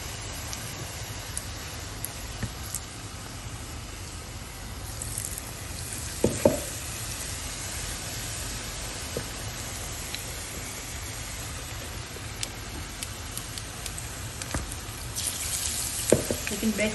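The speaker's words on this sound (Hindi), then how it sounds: "अभी ये जाएंगे ब्रेड के पकोड़े तेल में, वही आलू वड़े के।" Bread pakoras in a thin potato-vada-style batter fry in hot oil with a steady, dense sizzle that runs unbroken throughout, with an occasional sharper pop.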